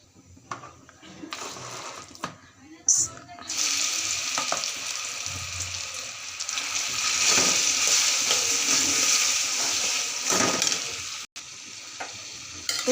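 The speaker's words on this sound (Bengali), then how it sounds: "তেলে আমি একটু ভেজে নিতেছি।" Olive pickle frying in hot oil with panch phoron and a bay leaf gives a loud, steady, close sizzle, punctuated by stirring scrapes and clatters, with no voices.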